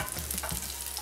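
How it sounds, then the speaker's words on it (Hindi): Cumin seeds roast in hot oil in a pot with a steady, close sizzle and crackle, with a few soft stirring scrapes. "जीरे को भी अच्छे से हम भून लेंगे इसमें"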